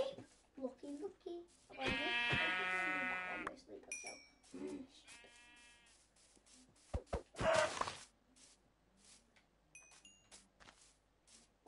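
Sheep bleat loudly a few times amid other game sounds and scattered talk, followed by quieter chimes and soft speech.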